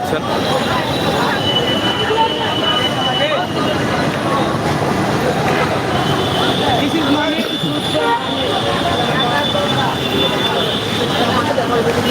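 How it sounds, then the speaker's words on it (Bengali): A metro rail train passes in Dhaka on a rainy day, its wheels squealing and rumbling loudly and continuously up close, with a person talking over the noise. "এখনই একটা মেট্রো রেল যাচ্ছে"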